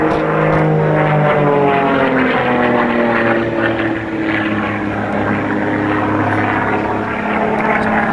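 Aerobatic propeller aeroplane engine roaring loud and steady through a high-G manoeuvre, its pitch sliding and droning continuously with no talk over it.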